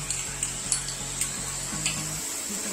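A spoon scrapes a pan in quick, regular strokes while spices such as turmeric and garam masala sauté for a Kolhapuri misal, a faint sizzle running beneath the scraping.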